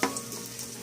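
Garlic hitting a hot pan for adobo sa gata, a short close sizzle with a brief stirring scrape at the start.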